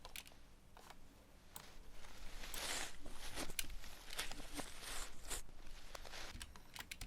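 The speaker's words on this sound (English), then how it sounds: "I think it was of walking on some leaves" Foley recording of footsteps on crunchy leaves, rustling and crackling steps in an irregular rhythm, close but fairly quiet, with no talking.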